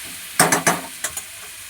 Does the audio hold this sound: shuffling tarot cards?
no